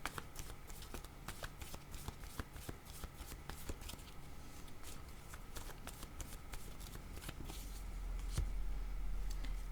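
Tarot cards are shuffled and drawn by hand in a steady run of soft riffling and slapping card sounds, close and continuous, growing slightly louder and fuller toward the end.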